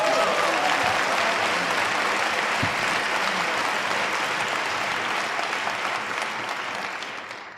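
Dense, sustained applause from a debate audience, loud and steady for several seconds before easing off slightly at the end, with no voices over it.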